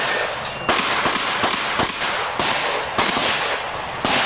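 A rapid string of about nine loud gunshots at steel pepper popper targets on a shooting course, cracking in a fast, slightly uneven rhythm close to the microphone.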